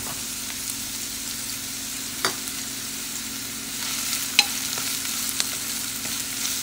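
Ginger paste fries in a pan for ginger capsicum rice, a steady close sizzle with a few sharp stirring scrapes and clicks throughout.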